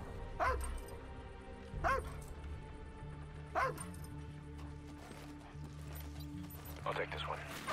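Dog barking in the video game Call of Duty Ghosts, three or four sharp yips spaced a second or two apart over a low engine-like hum, with voices talking in the scene.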